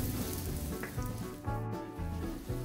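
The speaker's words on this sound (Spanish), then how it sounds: "caliente el aceite, le vamos a poner el ajo y vamos a poner la cebolla" Garlic and onion frying in hot oil give a steady, loud sizzle that crackles and pops continuously throughout, with no voices over it.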